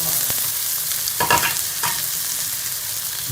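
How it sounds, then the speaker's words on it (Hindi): Spices for tomato paratha sizzle in a hot pan as a spoon stirs them, a steady frying hiss with a couple of brief scraping strokes, close and without voices. "इसको अच्छी तरह से मिक्स कर लेंगे"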